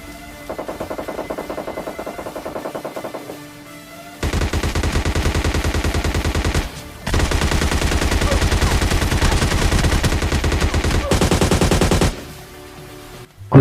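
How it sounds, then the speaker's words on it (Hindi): Automatic gunfire in PUBG Mobile Lite, long rattling bursts of rapid shots that start moderately loud, then grow louder and denser in sustained volleys with brief pauses between them. "मुझे लगातार सामने से फायरिंग की आवाज़ आ रही थी"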